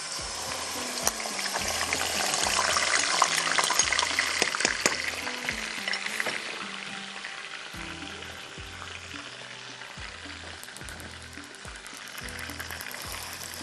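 Spiced minced meat qeema sizzles steadily in a pan while being stirred, a dense frying hiss with scraping spoon strokes, louder in the first half and then settling, with no talking.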